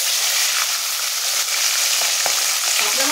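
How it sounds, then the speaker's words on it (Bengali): Katla fish from a pond frying in hot oil for a Bengali macher jhol, giving a loud, steady, dense sizzle throughout with a few brief crackles and spatters, no voices. "মাছটা ভেজে নেব"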